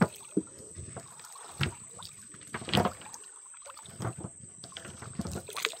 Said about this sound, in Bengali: একটা নৌকা খালের ভিতরে ঢুকে গেছে, তারা কাঁকড়া ধরবে বলে, আবার একটা আসছে